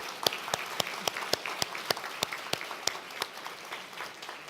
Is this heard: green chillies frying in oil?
no